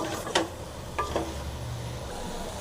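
Drumsticks being stirred into sambar masala in a pan: a few soft scraping strokes over a low, steady background hiss, fairly quiet, with no talking.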